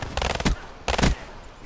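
Dual pistols fire in Call of Duty: two short, loud bursts of rapid shots about half a second apart, each ending with a booming low thump.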